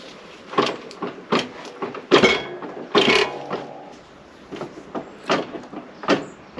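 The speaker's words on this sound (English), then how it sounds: "So we'll just rotate the engine." A BSA A10 motorcycle engine is turned over slowly by hand during a valve clearance check, giving a series of separate mechanical clicks, clunks and scraping knocks at uneven intervals. The sounds are fairly close and no one speaks.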